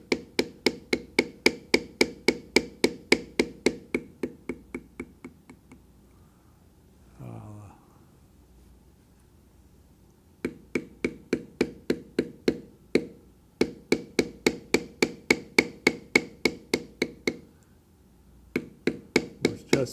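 A leather-carving tool taps rhythmically into leather, forming hair detail on a longhorn head, in long runs of quick, evenly spaced clicks. A few short pauses break the runs, and a brief scrape is heard near the middle.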